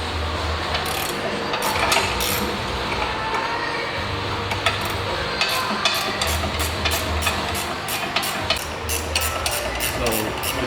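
A hand ratchet loosens the rear differential bolts on a Dodge ScatPack, giving steady rhythmic clicking bursts close by over a continuous mechanical background, with no talking.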